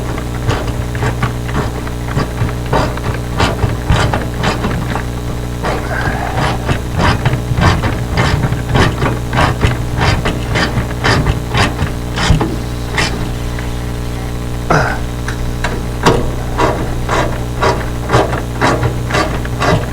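Repeated ratchet clicks and taps from hand work on a Dodge Dart front clip in a garage, a steady run of sharp metallic strikes close by over a constant background hum, with no talking.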